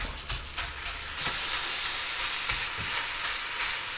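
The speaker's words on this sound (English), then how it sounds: "Sizzle sounds are good, so I'm gonna throw the rest of these in here" Chorizo sizzles in a frying pan, a bright steady crackling hiss that swells midway, with a few soft knocks from stirring.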